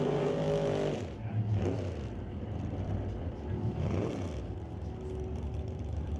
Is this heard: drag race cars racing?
yes